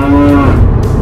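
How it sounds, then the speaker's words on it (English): Cows mooing close by in a roadside field, a loud, low, drawn-out bellow filling the whole moment. "Oh, there's cows."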